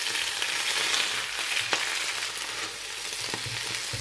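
Washed spinach sautés in a pan, a dense continuous sizzle close up with occasional sharp spatula taps and stirring scrapes, with no talk.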